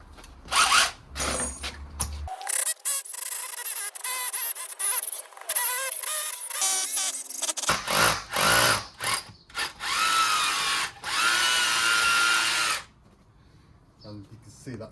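Power drill boring a long pilot hole through a thick brick wall for a 22mm pipe sleeve, running in bursts of grinding whine with pauses between, with a person talking over parts of it.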